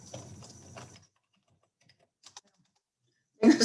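Fingers typing on a computer keyboard, with a dense run of key clicks at first, a few isolated taps after a pause, then another loud burst of keystrokes at the end.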